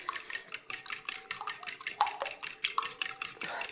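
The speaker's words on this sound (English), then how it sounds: "Now it is just a matter of whisking it all together. I use my fork." Fork whisking eggs in a bowl for a cheesy scramble made with feta brine, heard as quick, steady tapping and clinking strokes close by, alone with no talking.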